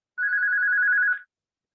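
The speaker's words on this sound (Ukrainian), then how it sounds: "Одну секундочку телефон" A telephone rings in a single steady electronic tone lasting about a second, loud and close, then cuts off into silence.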